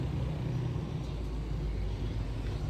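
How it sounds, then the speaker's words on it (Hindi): Road traffic passing by in Azad Kashmir: a steady low rumble of engines and tyres from nearby vehicles, continuous and fairly faint, with no clear voices. "तो ये देखें जी ट्रैफिक"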